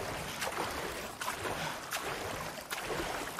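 A jet ski skims across water in the video game Far Cry 6, a continuous engine hum with rhythmic slapping bursts as the hull hits waves about every second.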